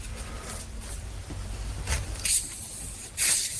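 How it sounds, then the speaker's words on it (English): Pepsi poured into eggnog gives short bursts of fizzing hiss, close and fairly loud, separated by quieter stretches. "Ooh, a little bit of good hiss."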